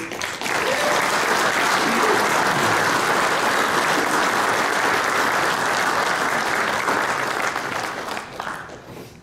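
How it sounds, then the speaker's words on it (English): Audience applause at a Pro Football Hall of Fame luncheon club event, a dense, steady wash of many hands clapping that swells quickly and holds loud for several seconds before tapering off near the end. "Please join me in bringing up applause to Danny to the floor stand here."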